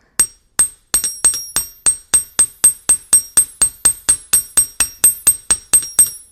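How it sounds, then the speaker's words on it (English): The flat side of a chasing hammer strikes copper wire in a steady series of about twenty sharp metallic taps with ringing overtones, close and loud, evenly spaced without talk. "So I start with the flat side of my chasing hammer."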